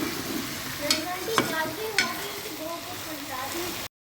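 Spices and crushed black pepper stirred together in a pan, with a steady sizzle and a few sharp scraping clicks from the spoon, close and moderately loud, no talking.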